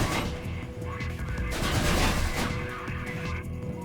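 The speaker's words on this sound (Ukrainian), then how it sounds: "Хтось стріляє. А! А, стріляють." Dense, rapid gunfire crackles through a busy Mirror's Edge game soundscape, with bursts of shots and crashes layered over a constant low rumble.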